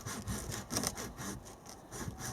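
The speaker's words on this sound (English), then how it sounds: "It's a nice sharp Japanese pull saw. So it cuts on the pull" A sharp Japanese pull saw cuts through a dead Japanese maple trunk in steady, rhythmic rasping strokes, close and loud, with no voices.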